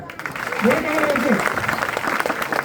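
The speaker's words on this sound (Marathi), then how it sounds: "टाळ्या जोरात" Audience clapping at a village gathering, a dense, steady patter that swells slightly and holds throughout, with a voice speaking over it partway through.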